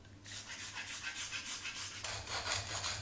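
Nutmeg rasped against a grater while mashed potatoes are prepared with milk, a steady series of soft scraping strokes at close range with no talking.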